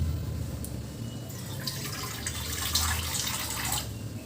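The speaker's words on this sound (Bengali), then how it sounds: "আর একটু জল দিয়ে দেব" Water poured into a cooking pot for a wedding-style recipe, a steady broadband splash and trickle rising toward the end over a low background hum, fairly close and with no talk.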